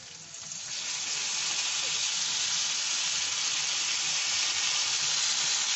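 Ginger paste with coriander and chilli powder sautés in a pan, swelling within the first second into a steady, bright hiss of frying that holds alone to the end.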